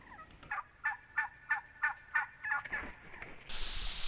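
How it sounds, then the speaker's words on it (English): Wild turkeys gobble near a pond in warm, snowless early winter weather, a string of about six rhythmic, rattling gobbles at moderate distance with a quiet outdoor background. "Now that Thanksgiving's come and gone, the turkeys are back out."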